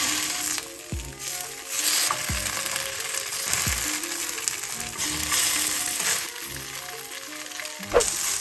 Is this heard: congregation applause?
no